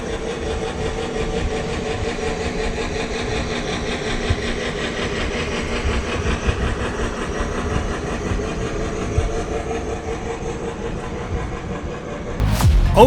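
A train rumbles steadily along the track with a constant low roar and faint rattling, ending in a sudden loud clatter.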